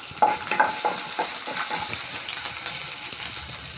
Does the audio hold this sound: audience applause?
no